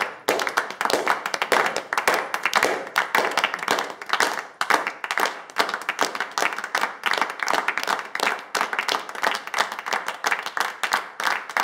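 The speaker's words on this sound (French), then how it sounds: "Donc, si vous êtes d'accord, on applaudit." A group claps steadily and close by, a sustained patter of many hands that keeps going at a fairly even level for over ten seconds without letting up.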